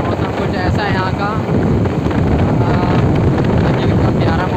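Wind buffets the microphone outdoors in the Uttarakhand hills, a loud, steady roar, with a voice speaking briefly under it early on.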